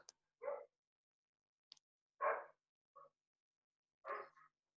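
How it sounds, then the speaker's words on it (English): A dog gives four short, separate barks spaced irregularly over a few seconds, faint and somewhat distant against near silence. "Can you hear my dog barking?"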